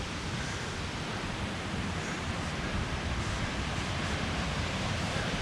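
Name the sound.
Cascada de los Caballeros waterfall in Colombia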